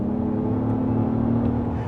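A 2024 Acura MDX Type S plays an artificial engine sound through its speakers while accelerating: a steady, droning hum at one even pitch throughout, loud and close, with a smooth synthetic tone.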